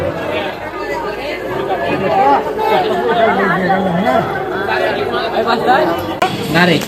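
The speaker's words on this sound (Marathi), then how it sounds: "रात्री पण गर्दी जबरदस्त आणि आत्ता पण गर्दी वाढायला लागले" Dense crowd chatter fills the grounds of the Akkalkot Swami Samarth temple, many overlapping voices murmuring steadily at close range with no single speaker standing out.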